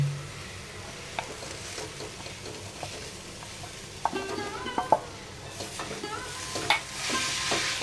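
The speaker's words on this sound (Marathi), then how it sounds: "याच्यामध्ये आता गूळ घालून घेऊया म्हणजे खोबरं आणि गूळ हे एकत्र छान असं भाजलं जाईल" Grated coconut and jaggery roast together in a pan, giving a steady soft sizzle with scraping stirs and light clinks of the spoon, close and quiet with no talking.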